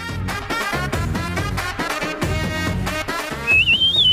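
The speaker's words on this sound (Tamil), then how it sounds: "இப்படி ஆரவாரமா விசில் அடிச்சுக்கிட்டு இருக்க" Loud, high whistling rises and wavers over busy music late in the scene, following a man's loud, showy whistling at home in a Tamil family drama.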